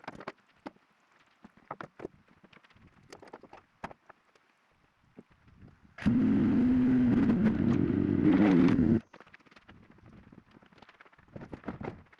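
A 2018-2019 Yamaha Sidewinder Turbo snowmobile engine roars loudly and steadily for about three seconds mid-clip, framed by quieter handling and shuffling noises, with no talking.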